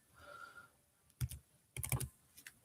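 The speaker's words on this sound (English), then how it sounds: "let me type this in, Dimitri" Keyboard typing in two short bursts of quick clicks separated by a pause, close and moderately loud, with no talking.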